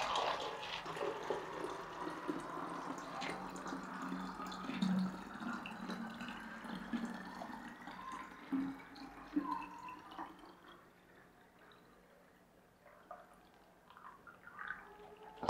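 Water poured from a jug into cups and then into a 1 liter bottle, a soft, quiet trickle and splash that fades to near silence, then a few faint drips and clinks.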